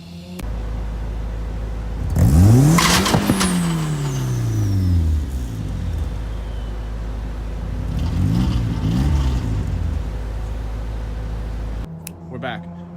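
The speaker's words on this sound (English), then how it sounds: "the miserable fail of me trying to do a burnout" A turbocharged KA24DE-swapped Volvo 240 wagon revs hard in a failed burnout with one tire spinning, the engine rising and falling in loud surging pulls over a steady low rumble, with a second rev later.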